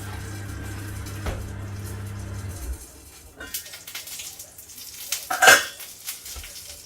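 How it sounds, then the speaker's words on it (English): Plant-based sausage burgers and hash browns dished up from pans, with a low hum cutting off, then scattered metallic clinks, scrapes and a sharp clatter of utensils on cookware at close range. "Okay, time to dish everything up."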